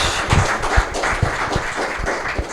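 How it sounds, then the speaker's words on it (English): Audience clapping after a talk, a steady patter of many hands with a few sharper individual claps, moderately loud and alone without talk. "please give Gwen a big hand of applause"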